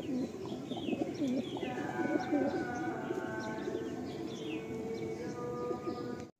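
Pigeons in a home loft at Ranihati, including breeding pairs, cooing steadily with soft throaty rolling calls and a few chirps, close and continuous, with faint voices in the background.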